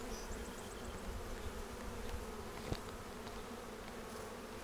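A dense, steady buzz of many bees droning together at close range at a hive, continuous throughout with no voices.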